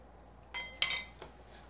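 A fork lifting a slice of ground-beef pie made with blender batter out of its dish, giving a few light metallic clinks and scrapes against the pan, close and quiet, with no talking.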